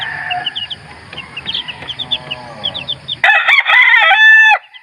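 A mestizo fighting rooster, sired by a red Kelso, lets out a loud, close cock-a-doodle-doo crow near the end, after a few softer clucks and calls from other chickens in the background.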